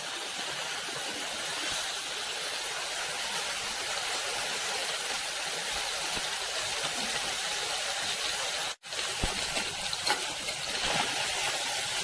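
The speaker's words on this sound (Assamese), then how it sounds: "প্ৰথমতে মাছকেইটা ভাজি ল'ম" Fish frying in a pan, a steady dense sizzle and crackle that continues for the whole stretch, broken only by one very brief cut.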